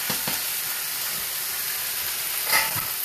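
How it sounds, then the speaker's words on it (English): A fish pan steaming and sizzling after soy sauce and water go in, a steady close hiss with a few sharper crackling spurts breaking through. "A little soy sauce for that flavor that I want to get a little steam."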